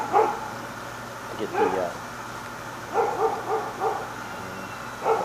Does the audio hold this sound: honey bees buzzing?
no